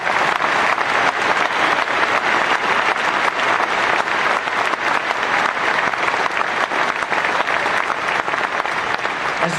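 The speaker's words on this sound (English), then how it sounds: "Give Corey a round of applause." Sustained crowd applause at a political economic rally in Lafayette, Louisiana, a dense, steady roar of clapping that fills the whole stretch at full loudness with no break.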